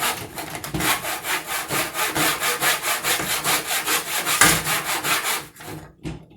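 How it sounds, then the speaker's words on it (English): Vintage 1970s miter saw cutting wood with steady, rhythmic back-and-forth hand strokes, close and loud, ending abruptly as the cut finishes. "This is a miter saw."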